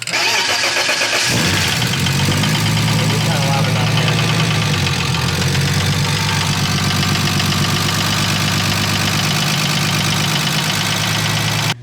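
A rebuilt BMW E36 engine cranks and fires on its first start-up, then settles into a loud, steady, slightly rough idle that carries on close by without a break.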